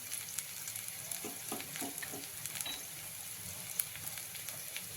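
Ground spice masala and turmeric sautéing in a pan make a low, steady sizzle with occasional scraping strokes and small crackles, fairly quiet and close, with no talking.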